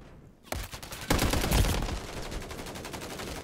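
A rapid burst of MTZ 762 rifle fire in the video game Modern Warfare III, a dense string of loud shots packed tightly together for about three seconds after a short quiet start.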